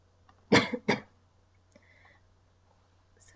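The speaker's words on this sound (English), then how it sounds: "Sorry if I keep coughing." A person coughs twice in quick succession, close and fairly loud, followed by faint throat noises in an otherwise quiet room.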